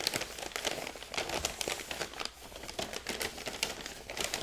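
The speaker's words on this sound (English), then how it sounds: "I am unwrapping" Plastic toy-figure packaging, a poly bag holding a Ninja Force Zartan action figure, crinkles and rustles continuously as it is opened up close, with dense crackling bursts throughout and no talking.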